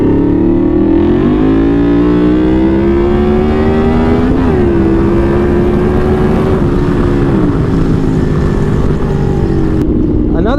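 A Yamaha V-Max motorcycle engine drones loudly and steadily while riding, with slowly rising and falling pitch as it holds speed, continuous throughout.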